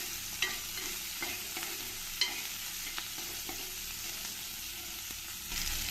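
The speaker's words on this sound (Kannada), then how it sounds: "ದವ ಕಟ್ ಮಾಡಿರೋಂತಹ ಒಂದು ಈರುಳ್ಳಿ ಸೇರಿಸ್ತಾ ಇದ್ದೀನಿ ಇದನ್ನು ಸ್ವಲ್ಪ ಚೆನ್ನಾಗಿ ಮಿಕ್ಸ್ ಮಾಡ್ಕೊಳ್ತೀನಿ" Chopped onion and curry leaves frying in oil in a pan for cauliflower pulao, a constant sizzle with intermittent spatula scrapes and stirs at an even pace, close up and without speech.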